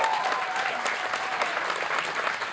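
Steady crowd applause at a student rock concert as a guitarist is introduced, a dense even wash of clapping throughout with a brief tonal squeal at the very start.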